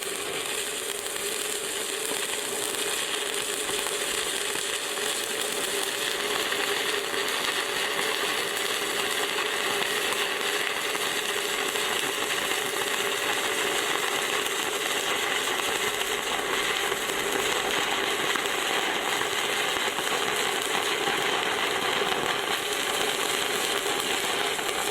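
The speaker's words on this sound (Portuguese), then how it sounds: "Vou começar a solda." Electric stick welding lays a bead, a steady, dense crackling hiss that continues without a break at moderate level, with no talk.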